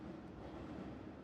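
A train rolling along in a video game, a dense steady rumble of wheels and carriage noise filling the whole moment, continuous and fairly loud with no talk.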